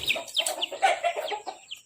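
Chickens cluck and chirp close by near a house on a cold morning, a busy run of short calls overlapping at moderate volume with no voices.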